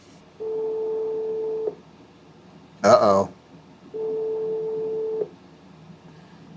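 A UniFi Talk VoIP desk phone plays a busy signal: two steady, loud tone bursts about a second long, separated by a pause in which a voice briefly exclaims.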